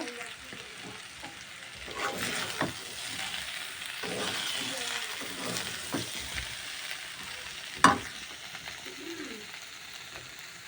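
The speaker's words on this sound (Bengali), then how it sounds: "এখানে সিম আলু ভাজা হচ্ছে" Potatoes and flat beans fry in a pan while being stirred, giving a steady, moderate sizzle with scraping stir strokes and one sharp utensil clack near the end.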